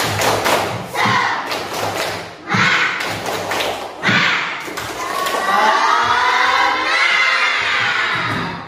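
Schoolchildren in a classroom perform a tepuk semangat clapping chant, bursts of claps and thumps alternating with loud shouted group voices, ending in a long sustained cheer.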